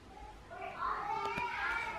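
A kitten gives a couple of short, faint meows in a close indoor setting, with soft background noise and a brief click partway through.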